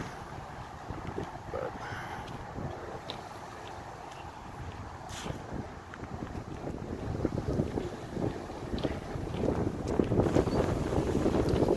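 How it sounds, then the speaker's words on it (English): Strong wind gusting through an open park, rushing and buffeting against the microphone in uneven waves that build louder toward the end, with no voices. "Probably because it's getting so windy."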